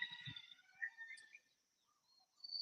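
Birds outdoors in Hawaii, with faint chirps and thin calls scattered over a quiet background, a few brief notes near the start and again toward the end, distant and soft.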